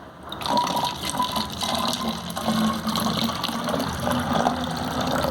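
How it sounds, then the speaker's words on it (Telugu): A glass of water is poured into a container of coarse rock salt for a plant remedy, a steady splashing gush that runs for several seconds at close range. "ఒక గ్లాస్ వాటర్ వేసుకోవాలి."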